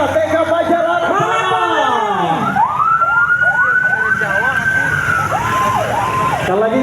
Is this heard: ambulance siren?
yes